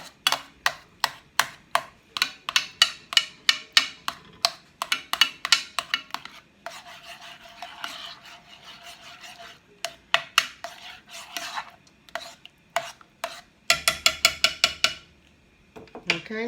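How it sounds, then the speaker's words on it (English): A utensil scrapes and clacks against a pot of peaches, chopping them in quick irregular strokes, with brief softer stirring passages in between, close by. "I'm sort of chopping them up as I stir."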